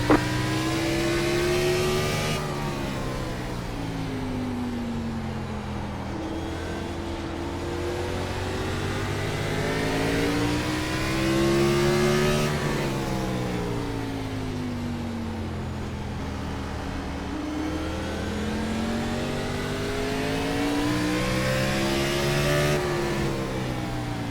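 Race car engines roar continuously in iRacing at the Martinsville short track, pitch climbing and dropping in repeated cycles as cars accelerate out of corners and lift into them, loud and steady throughout with no voices.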